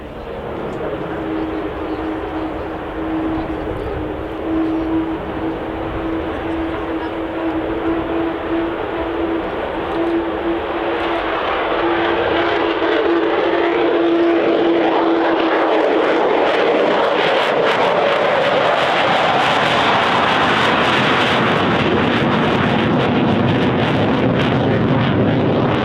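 A Lockheed U-2S Dragon Lady jet roars steadily, its engine noise building into a broad, loud rushing wash with a droning tone early on, growing louder and closer toward the end.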